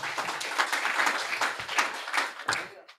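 Congregation applause during an Indonesian church sermon, a broad steady patter of many hands lasting about three seconds before tapering off quickly, fairly close and moderately loud, with a few voices mixed in.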